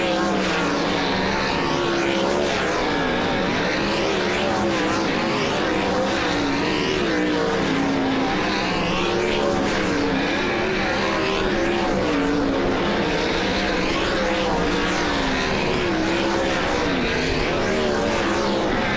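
World of Outlaws sprint cars roar through hot laps at Lawton Speedway. Several loud engines overlap constantly, with repeated rising and falling sweeps as the cars circle the dirt track.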